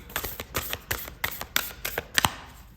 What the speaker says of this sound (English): let me shuffle again because the card was sticking